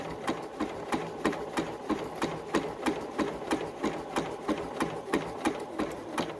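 A sewing machine stitches a mushroom applique in a steady run of regular, evenly spaced mechanical pulses, close and moderately loud with no voices.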